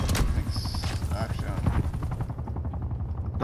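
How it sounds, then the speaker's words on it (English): A helicopter in the video game Call of Duty Cold War thrums amid rapid gunfire and explosions, loud and busy, with game voices over the action. "Is that our helicopter?"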